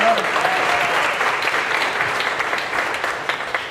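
An audience at a business summit and state-of-the-city address gives brief, steady applause, a dense wash of clapping that fills the space without pause.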